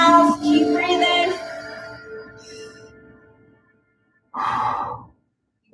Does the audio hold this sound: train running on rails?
no